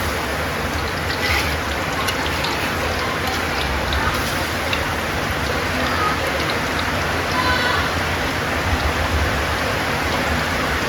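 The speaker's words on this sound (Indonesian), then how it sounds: "Hujan di luar sangat deras" Heavy rain pours outside in a dense, constant hiss and patter that stays even and loud throughout, with no pauses.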